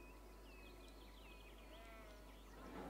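A faint sheep bleat in the city-building game Cities: Skylines, a few quiet wavering calls over a constant low hum with soft birdlike chirps.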